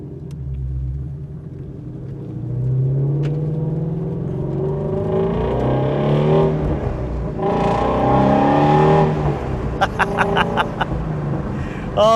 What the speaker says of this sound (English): That exhaust from factory on an R is just spectacular.